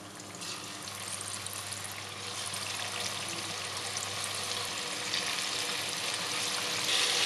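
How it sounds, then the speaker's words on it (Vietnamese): Pork ribs dusted in dry flour frying in hot oil over high heat, a steady soft hiss and fine crackle heard at moderate distance, no talk. "Lần lượt cho sườn vô chiên ở lửa lớn."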